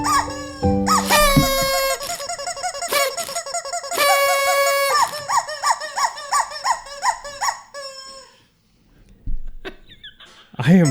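A squeezed toy chicken in a studio gives repeated loud, harsh squawks in quick bursts, stops briefly, then squawks again in a few final blasts.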